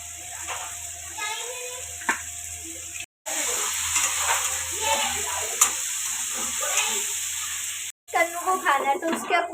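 Vegetables for paneer bhujia, with onion and green chilli, stirred and frying in a home kitchen pan. A steady sizzle runs throughout with spoon scrapes, briefly cut off twice, and someone talks over it.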